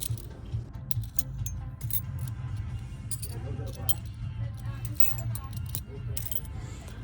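A pile of keys being sorted by hand, with light metallic jangles and clinks scattered over a steady low background hum, while someone talks throughout.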